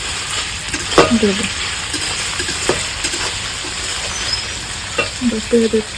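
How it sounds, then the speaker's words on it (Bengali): Garlic and onion paste sizzles steadily in hot oil for a homemade spicy young goat curry, a continuous close frying hiss with a few clinks of a stirring spoon and a faint voice in places. "এখন আমি রসুনটা দিয়ে দিচ্ছি"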